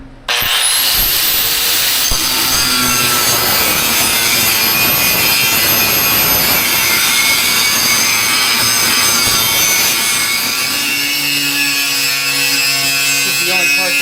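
A 7-inch grinder cutting metal in a shop while a Mack truck is being worked on, a loud continuous high whine and grinding screech that holds steady, then shifts pitch near the end, with no voices.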